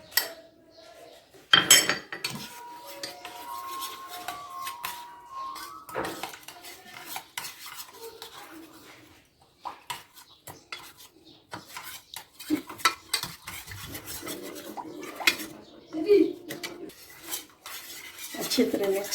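A spoon stirs sugar and cornflour into orange juice, clinking and scraping against the vessel in irregular bursts for about twenty seconds, close and moderately loud.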